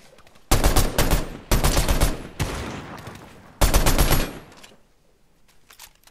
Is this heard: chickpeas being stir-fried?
no